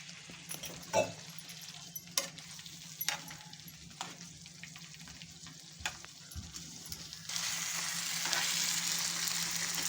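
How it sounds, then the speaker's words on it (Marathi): Brinjal frying in a pan, oil sizzling and crackling, with occasional scrapes and clinks of stirring; the frying grows louder and steadier toward the end. "चांगलं परतून घ्यायचंय."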